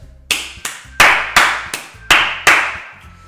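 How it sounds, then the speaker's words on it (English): Applause after a poem reading in the video game Doki Doki Literature Club: about seven sharp, separate claps, loud and close, each ringing briefly, with no voices. "once I finish, I receive applause anyway"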